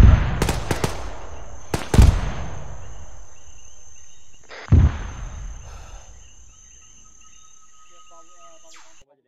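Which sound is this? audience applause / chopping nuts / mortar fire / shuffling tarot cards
mortar fire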